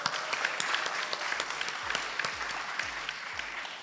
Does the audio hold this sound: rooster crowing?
no